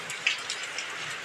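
Heavy rain falls in the morning as a dense, even patter of drops on surfaces. It is close and steady, with a few sharper drop hits and no voices.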